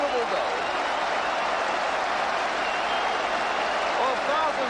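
Football crowd in the stands at Tottenham Hotspur versus Manchester City, 1981/82, applauding after a goal: a dense, steady wash of clapping and crowd noise, continuous and fairly loud throughout with no pauses.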